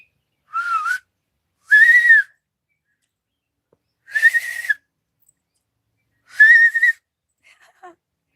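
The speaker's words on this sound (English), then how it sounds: "Now you got me whistling." A person whistles four short, loud rising notes, each separated by a pause, alone in a quiet room.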